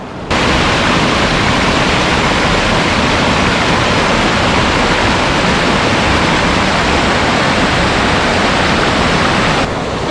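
Loud, steady rush of water roaring without pause through a small tunnel into a river at Green Lake, Wisconsin, a dense broad hiss like a torrent pouring through a channel, no voices.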